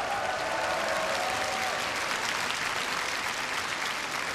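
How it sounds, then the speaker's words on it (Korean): Sustained audience applause for a university wind band's final performance at a Korea University arts festival, dense and steady throughout, with a faint whistle-like tone early on. "다시 한번 박수 보내주십시오."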